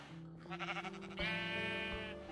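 A sheep in the video game Minecraft bleats alone, close and clear: a wavering series of short bleats followed by one longer, drawn-out cry.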